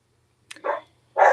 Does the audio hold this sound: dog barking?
yes